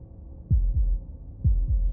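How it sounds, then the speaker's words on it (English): Slow, deep heartbeat in the video game Slay The Princess: two low lub-dub thumps, evenly spaced and heavy, over a faint hum with no voices. "That was the sound of a heartbeat,"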